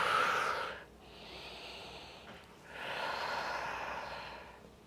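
A person breathes out slowly and audibly during a ball-assisted stretching exercise, two long, soft, breathy exhales separated by a short pause, close and alone without talk.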